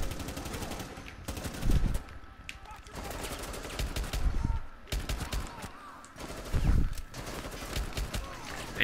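Bursts of rapid gunfire in Rainbow Six Siege, loud clustered shots in uneven volleys with short gaps, mixed with game effects and some voices.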